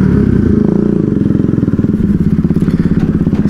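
A motorcycle engine, likely a Yamaha R15 V3, KTM Duke 250 or Pulsar NS200, rumbles and revs steadily up close with a pulsing, throbbing rhythm and loud low-end thumps throughout.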